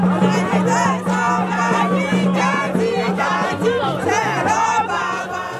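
A large festival crowd cheers and shouts for the Olowa of Igbaroke Kingdom, a dense, loud, continuous roar of many voices with excited calls rising out of it.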